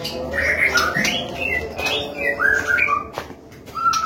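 A white-rumped shama (murai batu), a small caged songbird, sings a run of bright varied whistles and chirps, close and fairly loud, phrases following one another with short gaps over faint background noise.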